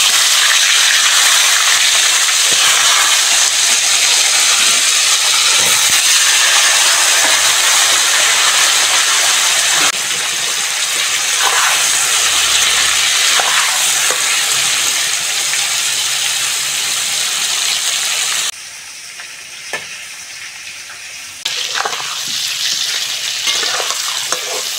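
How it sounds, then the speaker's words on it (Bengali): Cut pointed gourd frying in hot oil with salt and turmeric, a loud continuous sizzle and hiss with occasional stirring scrapes, dropping briefly quieter before resuming near the end. "পটলটা বেশ মাছ ভাজার মতো লাল লাল করে ভেজে নিয়েছি"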